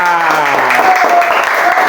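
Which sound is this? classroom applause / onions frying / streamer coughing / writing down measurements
classroom applause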